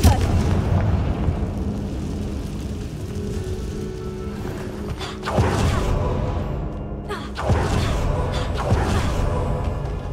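Confringo explosive spell in the Hogwarts Legacy video game: two heavy booming blasts land mid-clip, each a broad burst rising above a steady, noisy rumbling background.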